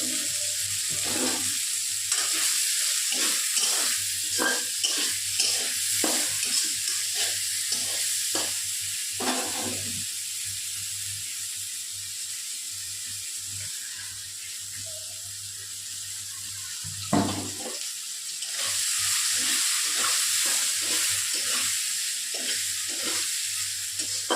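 Potatoes fry with salt and turmeric in a pan, making a continuous close sizzle with rhythmic stirring scrapes. The stirring pauses briefly and then resumes, and no one talks.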